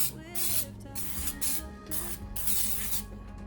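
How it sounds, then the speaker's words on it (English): Cooking spray hisses onto a baking pan in several short bursts with brief pauses between them, close up and crisp. "Let's just give our pan a quick spray."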